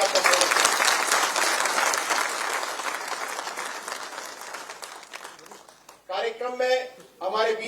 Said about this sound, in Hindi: आप सबसे आग्रह एक बार जोरदार ताली प्राप्त करें।